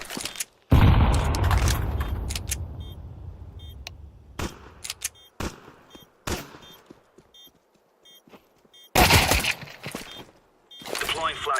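Grenade explosion in Counter-Strike 2: a loud, close blast with a long rumbling decay, then a second sharp burst later, among scattered gunfire cracks and quieter game noises.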